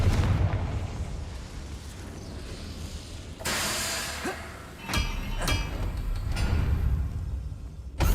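A Confringo fire spell in Hogwarts Legacy erupts in several booming blasts, the largest partway through, then a few sharper bursts over a steady rumbling game background.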